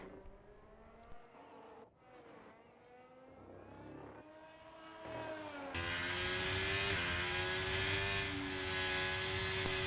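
Race car engine in a racing video game time trial, rising and falling harmonic whine through the final corners, swelling into a loud sustained high-revving roar in the second half.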